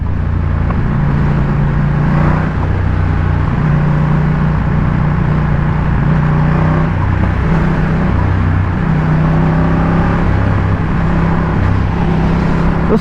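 A Ducati Diavel motorcycle fitted with a Zard exhaust runs with a steady, deep engine drone and sustained low harmonic tones, held at moderate revs and loud throughout without talk.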